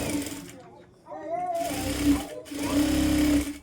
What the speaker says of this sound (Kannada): ಈ ರೀತಿ ಸ್ಟಿಚ್ ಮಾಡ್ಕೊಂಡು ಸೊ ಇವಾಗ ಆಲ್ ರೌಂಡು ಎಲ್ಲ ಕೂಡ ಜಾಯಿಂಟ್ ಮಾಡಿಕೊಂಡು ಸ್ಟಿಚ್ ಮಾಡಿ